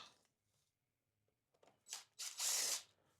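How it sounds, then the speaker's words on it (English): Power driver whirring in short loud bursts as screws come out of a Yamaha PW80 motorcycle carburetor, starting with faint handling noises, then one brief buzz and a longer sustained run close by. "let's get these screws out of here"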